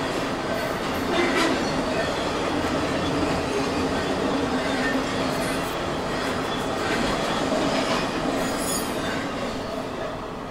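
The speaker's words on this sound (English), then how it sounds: "Symbol on that train was CSX Q010." A CSX freight train rolls steadily past on the tracks, a continuous loud rumble with clattering wheels and metallic squeals that lasts throughout.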